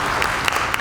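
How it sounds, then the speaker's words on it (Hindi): An audience at a government event breaks into applause, a brief burst of dense clapping lasting under a second. "आपकी तालियां अपेक्षित हैं"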